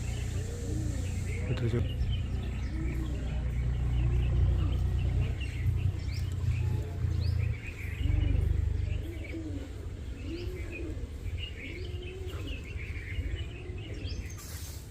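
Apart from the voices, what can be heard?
pigeons cooing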